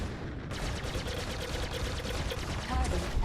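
Four ship guns on a Mustang Alpha firing in Star Citizen, a rapid continuous rattle of shots at steady rhythm, close and fairly loud, with faint background voices.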